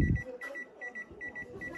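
A Rinnai gas stove's timer gives a series of short, high electronic beeps in quick pairs while being set, preceded by a brief knock, and a voice murmurs faintly underneath.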